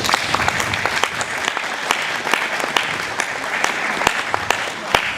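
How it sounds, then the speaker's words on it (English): Audience at a school awards ceremony applauding teachers, steady sustained clapping from many hands throughout, dense and fairly close, with occasional sharper individual claps standing out. "Let us clap hands for all the teachers that are in here."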